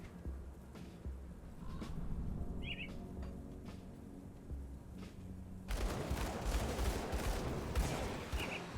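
Gunshots in the action RPG Grim Dawn, scattered sharp cracks early, then a dense rapid volley of shots near the end, amid game ambience.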